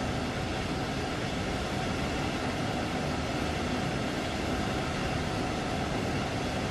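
A DB class 762.2 train runs at a station, giving a continuous broadband rumble and hum at steady moderate volume throughout, with no talk.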